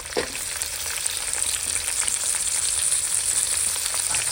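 Onions or aromatics sauté in hot oil in a pan for a mackerel fish curry, a loud, continuous close-up sizzle and crackle with no talking.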